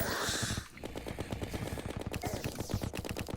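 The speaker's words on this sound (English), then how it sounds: "The Mega Shark with the knockback is pretty nice." Rapid automatic fire from the Mega Shark gun in the video game Terraria, a fast, steady stream of punchy shots after a brief burst of other game noise, loud and continuous with no talking.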